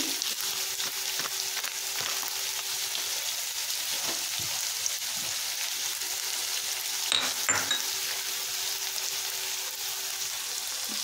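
Carrots frying in a pan with a pinch of turmeric, giving a steady, dense sizzle that holds an even level throughout, with faint scrapes of stirring near the end.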